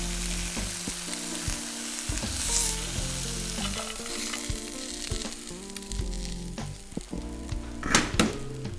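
Pecan-crusted salmon pieces fry in a pan with a steady close sizzle, punctuated by occasional clinks and thunks of a utensil against the pan.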